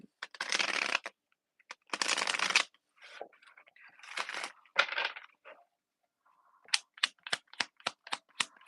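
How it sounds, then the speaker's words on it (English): Tarot cards shuffled by hand in bursts of riffling and sliding, two long riffles then softer shuffles, ending in a quick run of crisp taps as cards are squared or dealt, close and fairly quiet. "I just saw the Emperor on the bottom of the deck when I started shuffling."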